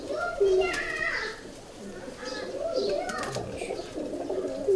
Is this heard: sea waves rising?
no